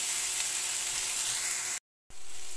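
Ground pork sautéing in a hot pan, a steady loud sizzling hiss that cuts out briefly near the end and then resumes, with no talk.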